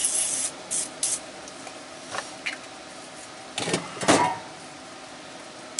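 PB Blaster penetrating oil sprayed from an aerosol can onto a stuck car distributor: several short close hissing bursts of varying length separated by quiet gaps, with a longer spray near the end.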